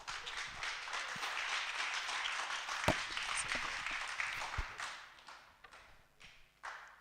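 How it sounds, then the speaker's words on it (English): An audience at a student business pitch competition claps for a participating clothing company, a moderate patter of many hands that swells and then thins out. A couple of thumps and taps break through before it trails off. "Okay, let's clap for G-Gum Company."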